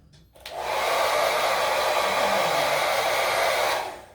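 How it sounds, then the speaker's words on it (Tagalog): A hair dryer starts up and runs with a steady, loud blowing roar for several seconds, close by, then winds down at the end. "I'm gonna quickly blow dry my hair now"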